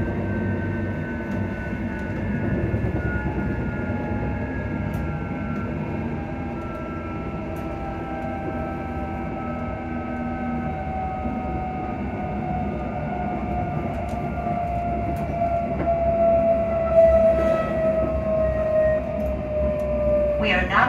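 A train rumbles steadily along the rails with a long, whining tone sliding slowly downward, and a voice speaking over the running noise.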